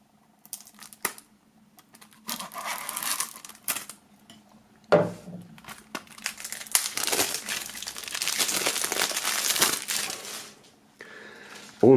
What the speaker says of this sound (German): nachdem das Album noch eingeschweißt ist, werden wir das Ganze mal aus der Folie holen.